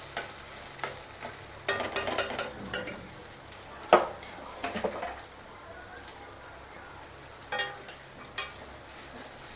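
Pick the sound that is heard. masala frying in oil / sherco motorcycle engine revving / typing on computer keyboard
masala frying in oil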